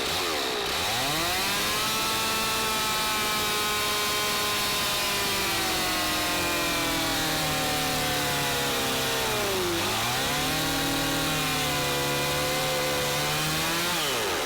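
A chainsaw cuts across the instep of a boot, running loud and continuous throughout, its engine pitch sagging as it bogs down midway under load and then recovering.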